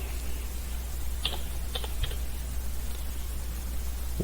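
Several quick clicks from a computer mouse, faint and close, set against a steady background hum.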